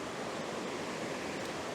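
Waterfall or rapids on a Dartmoor river, heard as a continuous, even rushing hiss of falling water, close and unbroken throughout.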